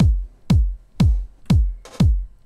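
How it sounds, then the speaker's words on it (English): Layered electronic kick drum with a top loop in a melodic house track, five punchy booming hits evenly spaced every half second, each with a sharp click on top and a decaying low tail, loud and alone. "We have this little in between kick, and on top of that, I have a top layer"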